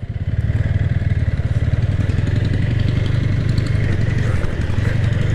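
An Apache RTR 160 4V motorcycle runs on a village road, its engine a loud, close, steady pulsing thrum that holds an even rhythm throughout.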